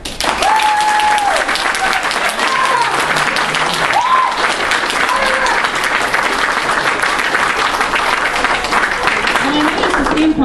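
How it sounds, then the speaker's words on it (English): Convention costume contest audience applauding to vote for a contestant, a sustained loud wash of crowd clapping running throughout, with a few voices and brief tonal sounds mixed in. "So for those who would like the winner of the contest to be the Squire Rohan,"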